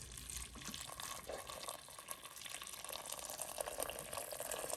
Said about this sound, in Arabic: ضروري انا كنصب فيه الماء لحقاش نطيبيه